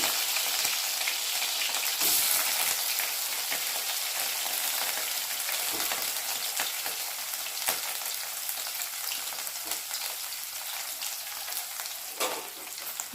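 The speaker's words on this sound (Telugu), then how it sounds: "ఆయిల్ వేడెక్కింది కట్ చేసి పెట్టుకున్న కడ్డీలు ఇందులో వేసుకోవాలి" Dry fish pieces fry in hot oil with a steady, dense crackling sizzle, close by and continuous, dotted with small pops and occasional light clicks, and no one speaks.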